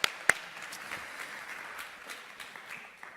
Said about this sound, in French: je souhaiterais que vous applaudissiez ces 4 personnes qui viennent parfois de très loin